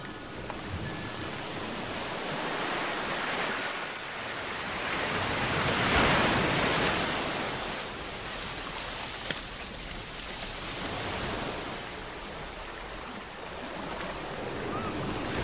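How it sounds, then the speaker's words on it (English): Ocean waves break and wash onto a beach as a steady broadband surf, swelling gently and easing back, moderately loud and alone without voices. "Walk along the beach again and cool your bare feet in the surf."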